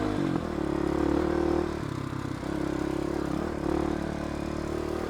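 A dual sport motorcycle rides over rocky desert ground, its engine droning steadily up close, rising and dipping with the throttle while stones clatter and scrape beneath the tires.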